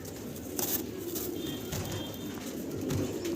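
Pigeons at a pigeon farm coo in a low, steady murmur of many overlapping birds, with a few brighter calls and rustles rising over the constant nearby flock.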